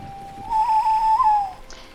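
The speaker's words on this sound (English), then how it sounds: "they changed the whistle" A single sustained whistle from The Lord of the Rings Online, a clear tone lasting about a second with slight wavering, ending in a brief downward slide, alone without talk.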